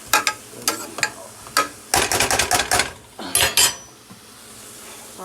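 Ground turkey being flipped and stirred in a pan for homemade spaghetti sauce: a utensil clatters and scrapes against the pan in sharp, irregular bursts, with a dense flurry in the middle, then quiets.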